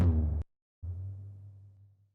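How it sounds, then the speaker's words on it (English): Solo tom drum track from a pop production: one loud, booming tom hit with a long low decay, a short gap, then a second sustained low, pitched tom tone fading out, with no voices. "I have this Tom Weird track right here that in solo sounds like this."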